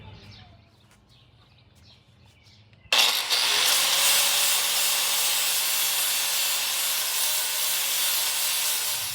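Continuous loud hiss and rush of abrasive blasting inside a blast cabinet, removing corrosion from a cast iron Ford Y-block exhaust manifold, starting abruptly after a few quiet seconds and holding steady to the end.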